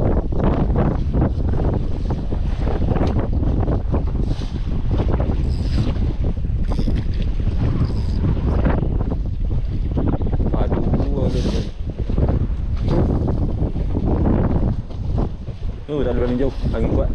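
Strong wind buffeting the microphone aboard a fishing boat out at sea while squid casting, a loud continuous roar with engine and water noise underneath and faint voices.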